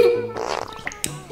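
A child blows a short, wet, sputtering fart noise with the mouth, close and fairly loud, a voice imitation rather than a real fart.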